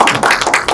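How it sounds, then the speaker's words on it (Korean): Brief burst of audience clapping at a community film screening in Daegu, a dense patter of many hands lasting under a second, loud and close. "큰 박수로 지지해 주시기 바랍니다"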